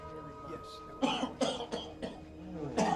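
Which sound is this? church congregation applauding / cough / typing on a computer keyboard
cough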